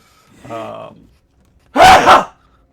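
A single sharp sneeze bursts out loudly at close range, preceded by a brief voiced breathy sound.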